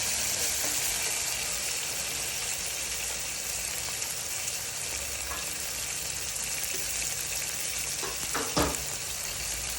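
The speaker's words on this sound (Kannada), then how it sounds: "ಕ್ಯಾರೆಟ್ ಚೆನ್ನಾಗಿ ಮಿಕ್ಸ್ ಮಾಡ್ಕೊಬೇಕು. ಸ್ವಲ್ಪ ಫ್ರೈ ಆಗಲಿ." Carrots and peas frying in a pan for fenugreek pulao give a continuous, even sizzle, with a couple of spatula scrapes and taps near the end.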